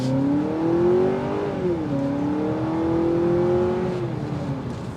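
A 2023 Honda Accord Hybrid Touring's engine pulls steadily under acceleration, a continuous hum rising and falling in pitch as it climbs, fairly loud and steady throughout with no talking over it.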